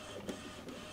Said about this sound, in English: it's all printing away nicely there